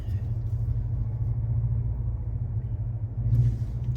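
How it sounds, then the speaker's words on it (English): A Mercedes A250 AMG Line with a 2-litre engine driving in sport mode: a steady low rumble heard from inside the car, with a slight swell of burble near the end, continuous and without talk. "the minute 2-liter engine with some burbles at the back"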